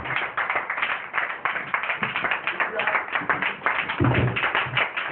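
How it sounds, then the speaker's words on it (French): A church congregation claps and cheers for God, a steady mass of hand claps and crowd voices running without pause, with a louder swell toward the end. "Lève-toi et acclame fort ton Dieu"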